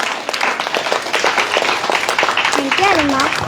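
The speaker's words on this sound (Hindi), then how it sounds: "तालियां बजा देंगे हम आमना के लिए" Children at a shelter home clap for a girl named Amna, a dense, continuous patter of many hands heard alongside talking voices.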